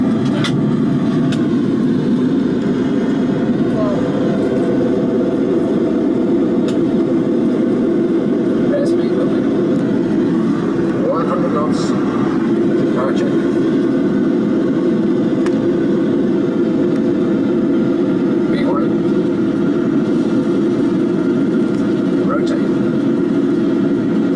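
A simulated Concorde takeoff at Brooklands gives a loud, steady, continuous engine roar that holds for the whole stretch with little change, close and dominant, with voices in the background.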